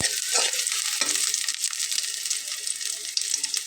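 Bay leaves dropped into hot oil for Bengali aloo sobji, a bright crackling sizzle with a few sharp spits and stirring scrapes near the start, continuing steadily close by without talk.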